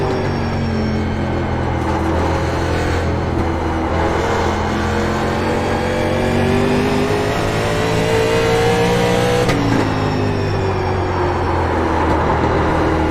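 A race car in iRacing revs hard and loud with a rising, falling engine whine that shifts through the gears, a continuous close roar with no talking.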